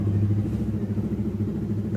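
Motorcycle engine rumbling steadily and close while riding, a low continuous drone with no voices over it.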